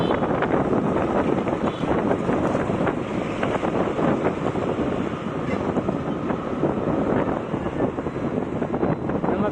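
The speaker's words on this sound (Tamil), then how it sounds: "ரொம்ப காற்று அடிக்குது." Strong wind buffets the microphone with constant heavy rumbling gusts, loud and unbroken throughout.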